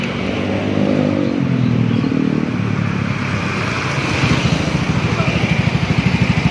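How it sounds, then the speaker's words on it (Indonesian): A Yamaha Mio Gear 125 scooter fitted with an SKR racing exhaust and no baffle starts up, cranking, catching, then settling into a deep, pulsing idle close by, with a voice talking over it. "Dan gue coba nyalain sedikit ya."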